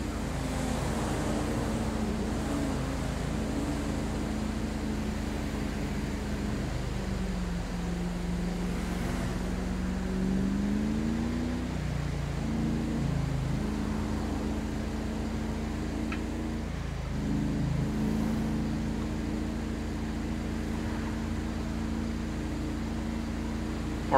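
A steady car engine drone from a police patrol vehicle in a GTA roleplay game, running continuously at highway speed as it rides past another car with hazards on, with smooth pitch shifts as the engine revs rise and fall.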